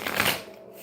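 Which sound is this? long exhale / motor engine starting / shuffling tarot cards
shuffling tarot cards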